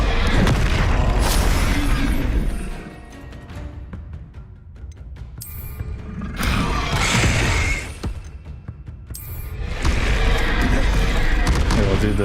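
Confringo blasting spells explode in combat in the Hogwarts Legacy video game, with heavy booming blasts in several loud waves, separated by quieter stretches of rumble and debris.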